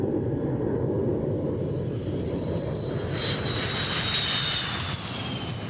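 A MiG-29 jet aircraft on takeoff makes a continuous loud engine roar with a thin high whine rising over it, heard steadily from close range.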